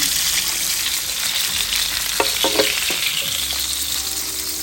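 Fish fillets frying in a pan, both sides browned, giving a loud, continuous close sizzle with a few clattering touches of a utensil midway through.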